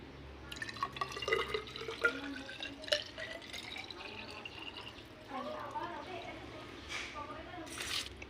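Water poured into a measuring glass while mixing a foam-boosting additive for soap, with splashy trickling and dripping running under a talking voice, fairly quiet overall.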